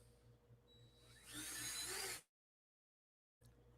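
A power drill whirs at home in one steady burst of about a second, faint and set against a quiet room before cutting to silence.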